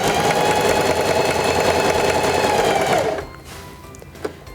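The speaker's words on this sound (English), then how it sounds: "Place the fabric underneath the presser foot, lower the presser foot, and begin sewing." A Heavy Duty 4411 sewing machine stitching a long, wide zigzag, running loud and steady for about three seconds, then stopping, with quiet handling sounds afterward.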